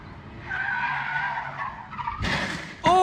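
A car on a road skids with a long, loud tire squeal over engine noise, followed by a harsher scraping burst and a sudden sharp impact at the end, as the vehicle flips over.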